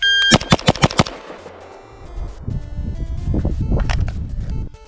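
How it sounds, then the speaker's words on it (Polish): A GROT rifle fires a rapid string of about five loud, sharp shots at a shooting range, then ringing echoes and muffled handling noise follow, with a few more distant reports near the end. "Idziemy strzelać."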